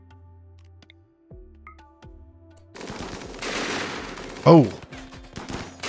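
Rapid bursts of gunfire in the colony-building game Rimworld ring out after a quiet stretch, with a short sharp cluster of shots standing out and a voice briefly exclaiming.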